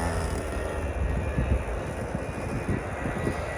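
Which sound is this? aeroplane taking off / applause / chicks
aeroplane taking off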